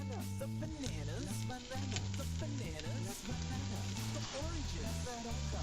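A Spanish tortilla sizzles softly in a non-stick pan, a faint steady frying hiss under someone talking and background music.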